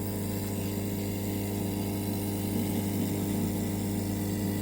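A diode laser engraver's air assist pump runs with its hose removed, giving a steady, loud mechanical hum and whir that continues evenly throughout with no talking.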